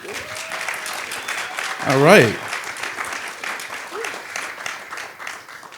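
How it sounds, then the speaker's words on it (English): Audience applause for a panel of speakers at a talk on AI, art and education, a steady spread of clapping running the whole stretch with a brief louder whoop-like swell in the middle. "Can you guys clap it up one more time for our panelists?"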